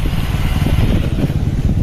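Motorcycle engine rumbles steadily while being ridden, a close, loud low drone with wind and road noise.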